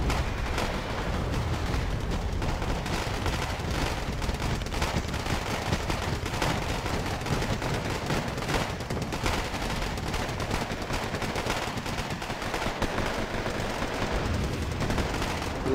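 Mortars fire and barrage without letup in the video game Wargame AirLand Battle, a dense, continuous roll of booming shots and crackling impacts layered over one another at a steady loud level.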